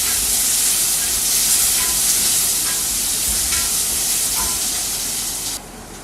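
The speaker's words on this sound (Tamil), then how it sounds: "அடுத்தது சின்ன வெங்காயம், கறிவேப்பிலை, ரெண்டையும் போட்டு நல்லா வதக்கிக்கலாங்க." Shallots and curry leaves sautéing in hot oil for a Tamil tomato gravy, a loud continuous close sizzle and crackle with no talking.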